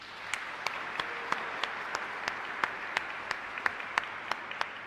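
A church congregation at a live Mass applauds in a steady, moderately loud round of clapping, with sharp individual claps standing out above the dense patter.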